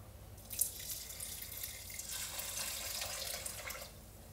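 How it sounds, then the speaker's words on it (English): Water poured from a measuring cup over rice in a bowl to prepare sushi rice, a soft running trickle and splash that swells mid-way and continues steadily before tapering, with no one speaking. "I'm going to add 3 rice cooker cups of water, or 540 milliliters"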